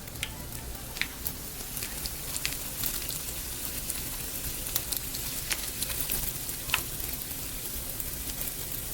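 Salmon and veggie egg rolls frying in oil, a continuous crackling sizzle with scattered sharp pops, steady and close.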